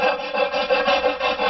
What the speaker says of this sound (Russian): Вот там, где не идеально отрезано, можно подровнять напильничком или наждачкой грубо.